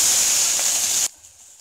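Chopped onion sizzling in hot oil with mustard seeds and cumin in a pan: a loud, steady, bright hiss for about a second, then cutting off abruptly to a faint quiet background.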